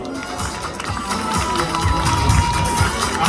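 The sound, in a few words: audience applauding pin-up contest candidate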